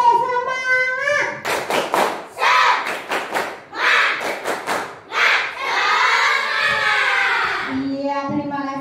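Children clap in a rhythmic 'tepuk semangat' classroom chant, bursts of sharp, close claps in patterned groups interleaved with a teacher's voice before and after.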